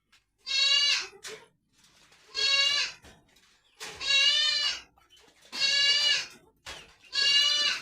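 Five loud, drawn-out goat bleats on a goat farm during evening feeding, evenly spaced with short pauses between, close by and with no talking.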